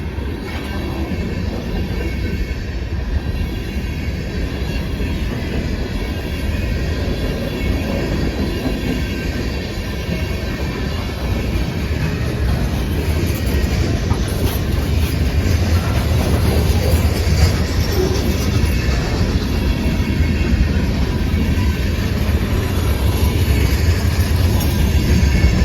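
A CSX freight train, M327, rolls past in a snowstorm with a loud steady rumble of wheels and cars, faint clickety-clack and occasional wheel squeal, sustained throughout with no voices.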